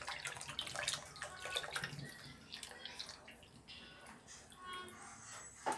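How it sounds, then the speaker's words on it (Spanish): Evaporated milk pours from cans into a cooking pot for Dominican chaca, a sweet corn pudding, making a steady, close liquid gush and splash that thins toward the end. "Yo le voy a echar 3 latas de leche."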